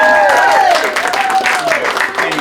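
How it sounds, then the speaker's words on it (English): Wedding guests burst into loud, close applause for a bridesmaid's speech, a dense steady clapping with a voice rising over it. "a big round of applause"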